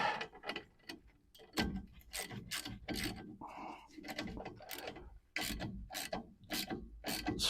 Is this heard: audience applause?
no